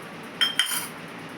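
A metal spoon clinks twice against a jar as coffee powder and sugar go in, two close, bright taps followed by a short ringing tail, fairly quiet with no talking.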